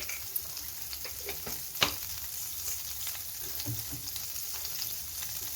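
Mustard seeds sizzle in a little hot oil in a pan for a tomato chutney tempering, a soft continuous fizz with scattered small pops and one sharper crackle, no voices.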